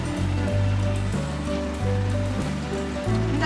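A wet grinder churns carrot dosa batter with a loud, continuous rumble that pulses in a steady rotating rhythm, each cycle marked by a slight shift in tone.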